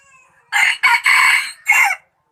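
A rooster crows loud and close, a series of bright, harmonically rich calls with short breaks between them, standing alone with no other sound.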